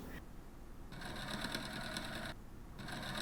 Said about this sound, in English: Then pin into place and sew along the folded edge.